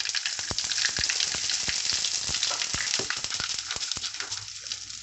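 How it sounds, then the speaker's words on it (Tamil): Mustard seeds crackle and pop sharply in hot oil over a steady sizzle, a rapid irregular spattering that stays loud throughout. "கடுகு நல்லா பொரியிற வரைக்கும் நம்ம வெயிட் பண்ணலாம்."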